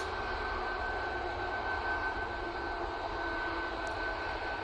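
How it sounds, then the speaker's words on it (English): A Ryanair airliner passes at Manchester Airport as a steady, moderately distant engine roar that holds even throughout, with no voices. "Ryanair coming on in front of us next."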